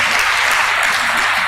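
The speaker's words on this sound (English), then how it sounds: "A round of applause for Dushi." Audience applause at a university career fair, dense steady clapping from a crowd indoors, loud and continuous throughout with no voices.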